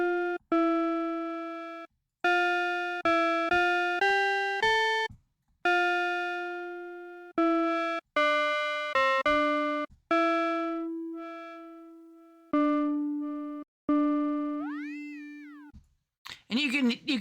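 Bitwig FM4 synth tones, a sine wave frequency-modulated by a second oscillator, play as a series of short sustained notes that stop and start with changing pitch and timbre, ending in a wobbling upward-bending tone and a burst of noise.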